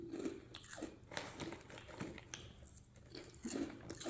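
Loud, close crunching and biting on Korean corn chip snacks, with repeated crisp bites and chewing in an uneven rhythm and no talking.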